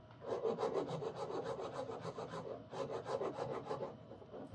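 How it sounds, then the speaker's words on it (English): A fine file rasps across the wooden neck of a steel-string guitar in quick, even back-and-forth strokes, close and fairly quiet, with a brief pause partway through and no talking. "I'll probably use a little bit finer file."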